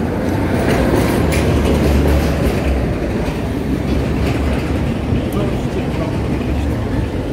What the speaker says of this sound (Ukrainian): Трамваї зараз ходять